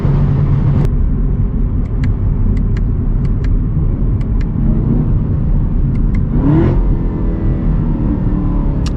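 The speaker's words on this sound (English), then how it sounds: "I didn't need to downshift to first right there, but I just wanted you guys to be able to hear it." Chevy Camaro ZL1 1LE downshifting to first on a bumpy interstate, with a loud constant engine and road rumble inside the cabin and a quick rising rev burst near the end.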